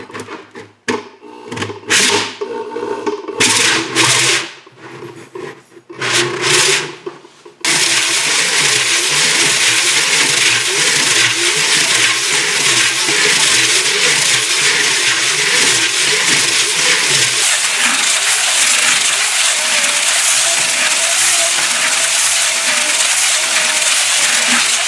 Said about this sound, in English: of course I'm going to hone it, so let's see how it works